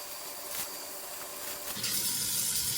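Tap water runs steadily while a synthetic wig is washed in a sink, a continuous close splashing gush that grows louder and brighter near the end.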